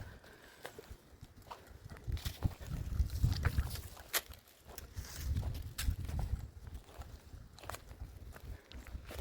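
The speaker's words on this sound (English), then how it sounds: "I hear some horses coming." Horses approach along a wooded hiking trail, their hooves clopping irregularly on the ground at moderate distance, growing busier through the middle amid soft outdoor ambience.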